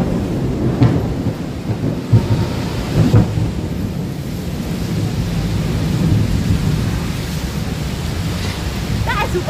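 Low, rumbling thunder rolling continuously over a steady hiss of heavy rain in Bangkok, with occasional sharper cracks.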